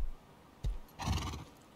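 A horse in the video game Rust gives a short, loud neigh with a sharp onset and a breathy whinny trailing off, heard alone.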